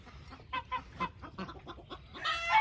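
Backyard chickens clucking near their coop on a small Florida farm: a run of soft, quick clucks and chortles close by, rising to a louder squawk at the end.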